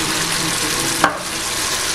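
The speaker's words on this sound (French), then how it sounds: "nous faisons rissoler nos pommes coupées en gros cubes avec le sucre et nos grosses noix de beurre" Diced apple cubes fry with sugar and thick knobs of butter in a pan for an apple pie filling, giving a steady close sizzle with one brief stirring clack partway through.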